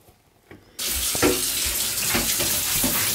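A shower bursts on after a brief quiet moment, then water pours in a steady, loud, close rush that continues to the end, with no voices.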